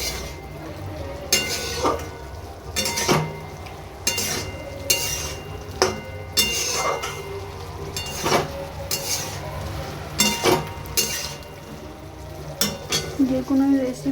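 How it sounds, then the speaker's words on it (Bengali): Pointed gourd curry is sautéed in a pan, with intermittent spoon scrapes and clinks against the metal over a low sizzle that goes on throughout. "কিছুক্ষণ আমি কষিয়ে নিচ্ছি।"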